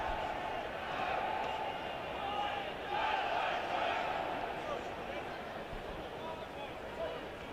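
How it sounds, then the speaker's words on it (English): A partisan rugby crowd cheers and roars at the Bill Beaumont Cup Final between Cornwall and Lancashire, a dense, steady wall of voices that swells and eases gently throughout. "The partisan crowd thoroughly enjoying themselves."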